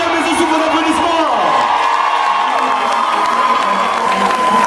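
A crowd at a comedy evening cheers, whoops and shouts loudly for a DJ, a sustained dense roar with a rising whistle-like tone, loud throughout and close.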